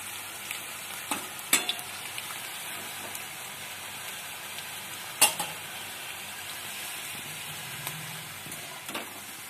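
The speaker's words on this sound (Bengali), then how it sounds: "এই যে পকোড়াটা উল্টে দিচ্ছি, কি সুন্দর ভাজা হয়ে যাচ্ছে" Cabbage pakora sizzles steadily in hot oil, a continuous close frying hiss broken by a few sharp clinks and splashes as pieces are flipped.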